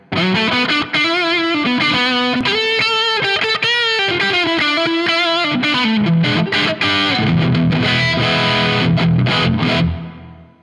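Distorted electric guitar, a Telecaster on the neck pickup through a Bugera JCM 900-style amp, playing a melodic lead line, notes ringing out with a reverb tail that fades at the end.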